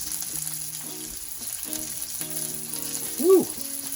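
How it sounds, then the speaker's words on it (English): Bacon fries on an electric griddle with a steady, close, crackling sizzle running throughout, along with a few faint metallic scrapes and clinks. "Check out the bacon on the other side."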